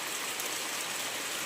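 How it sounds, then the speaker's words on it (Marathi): Rain falls again outdoors under a cloudy sky, a soft, even hiss of drops on surfaces, steady and fairly quiet through the brief moment. "हा बघा केवढा पाऊस पडायला बघा सुरुवात झाली परत"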